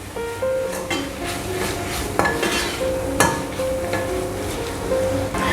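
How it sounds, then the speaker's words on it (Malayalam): Chili and coriander powder masala is sautéed in a pan for a squid roast, with clinks and scrapes of a spatula over a soft sizzle and a couple of sharper knocks against the pan. "ഇനി നമുക്കിതിൻ്റെ പച്ചമണം മാറുന്നത് വരെ ഇതിനെ നന്നായിട്ടൊന്ന് വഴറ്റാം"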